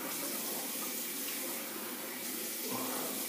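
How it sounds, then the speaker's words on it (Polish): Cold tap water runs steadily from a faucet into a sink while someone rinses their face, a close, continuous splashing wash that dips briefly midway and then picks up again, with no talking. "Opłuczę twarz zimną wodą."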